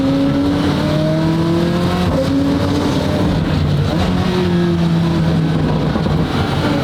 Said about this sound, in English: Turbo spool noises.